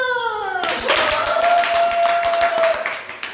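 Steady clapping in a collagen product presentation follows a spoken cue, with a rapid run of claps under a held voice lasting about three seconds before fading out.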